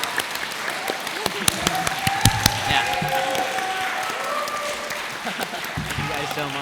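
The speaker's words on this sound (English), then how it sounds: "can I get please a round of applause for all of them" Audience applause fills a convention hall at Power Morphicon 2024, sustained steady clapping with a few sharp claps standing out and a voice speaking over it near the end.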